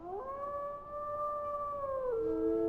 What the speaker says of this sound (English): That has to be a new howling animation.